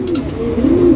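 A domestic pigeon from an old pedigree line gives a single low, close, throaty coo in a brief burst.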